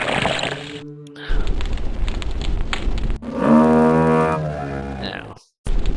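A cow in the Return to Zork video game lets out a loud, drawn-out low moo, with a second long moo following after a brief gap, close and clear.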